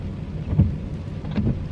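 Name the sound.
rain falling outside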